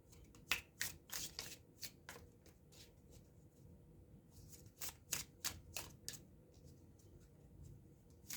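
Tarot cards shuffled and riffled by hand at close range, quiet crisp flutters and snaps in two bursts separated by a pause, over a soft background hiss with no talking.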